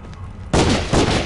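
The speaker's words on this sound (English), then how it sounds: "Did that police officer just shoot him?" Gunfire from a police officer shooting in the video game HardTime, two loud close bursts about half a second apart over a game background, no voices.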